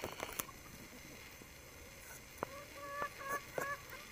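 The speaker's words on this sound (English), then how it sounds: "But he just stands there and clucks." Backyard chickens cluck in short, scattered bursts close by, with a rooster among the flock at feeding time and a few faint taps and rustles between calls.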